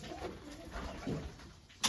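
Pigeons kept at home coo softly in low, muffled murmurs, followed by a sharp louder knock or rattle at the very end.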